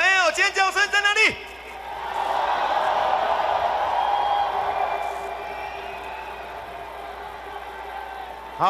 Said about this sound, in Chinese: 一连的朋友，尖叫声在哪里？